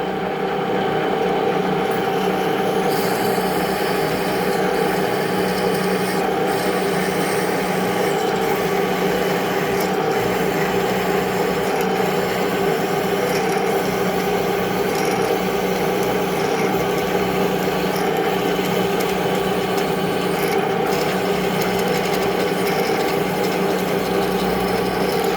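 A power drill bores into metal with a 9.5 millimeter bit while building a press brake for bending sheet metal. It is a loud, continuous grinding whine held steady throughout, with occasional faint clicks.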